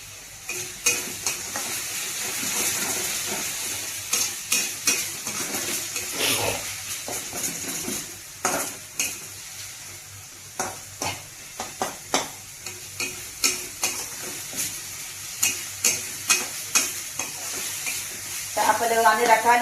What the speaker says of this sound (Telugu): ఆయిల్ బయటకు వచ్చిన తర్వాత దాకా కొంచెం వేపాలండి